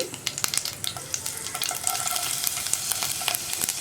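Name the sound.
ginger frying and being stirred in a pan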